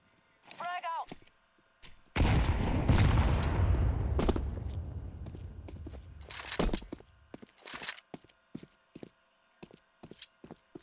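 Frag grenade blast in Counter-Strike on the de_bunker map: a heavy, close boom with a long rumbling decay, followed by scattered gunfire pops and clicks, with a voice calling out just before.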